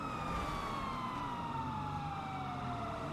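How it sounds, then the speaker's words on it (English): Police siren during a video game car chase wails in a long, slowly falling tone over a steady rumble of engine and road noise, loud and continuous with no talking. "I hate that siren noise."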